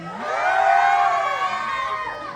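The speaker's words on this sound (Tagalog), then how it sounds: "Wala po bang malakas na hiyawan dyan?" A pageant audience at a national costume segment for Queen of Barangay 70 2026 cheers and screams loudly in one sustained, swelling roar that slowly fades.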